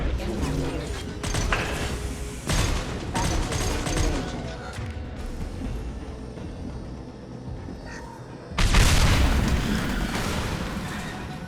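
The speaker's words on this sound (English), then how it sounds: "Taking heavy fire!" Heavy weapons fire in Mass Effect 2, with booming blasts and mechanical clanks across a combat scene, a heavy impact hitting loud near the end, and voices talking through the action.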